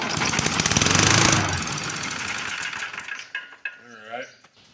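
Vintage Toro lawn mower engine, a curbside find, runs with a loud, rough, clattery chugging for about three seconds before cutting out, after which a voice speaks.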